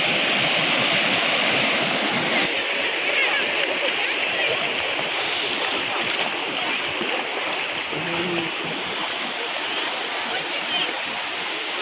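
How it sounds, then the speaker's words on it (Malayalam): Water rushes and splashes continuously at Vadattupara Waterfalls in Kothamangalam forest, a loud steady roar of cascading water, with a faint voice briefly underneath. "ഇങ്ങനെ വെള്ളം ഇങ്ങനെ കുത്തി ശബ്ദമൊക്കെ കേൾപ്പിച്ചിങ്ങനെ ഒഴുകുകയാണ് വെള്ളം"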